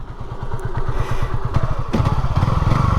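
Honda CB250RS motorcycle riding along on a sunny day, its single-cylinder engine thumping in a fast, steady, loud rhythm close to the microphone, with no talk.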